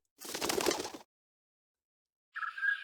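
Owl calling in the Samorost video game, a soft breathy hoot followed after a pause by a higher, tonal second call, both close and clear against silence.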